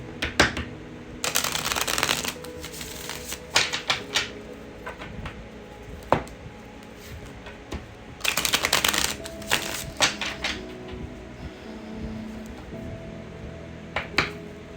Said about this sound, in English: I'm going to pull some tarot cards right now and see what the message